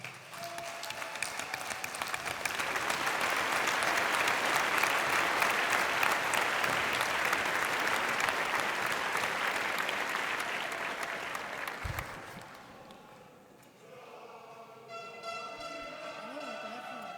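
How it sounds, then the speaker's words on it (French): Congress delegates applaud in a large hall, building into a loud, sustained ovation of many hands that fades after about twelve seconds, followed by a quieter tail with a voice speaking. "vous méritez tous que le Congrès vous applaudisse"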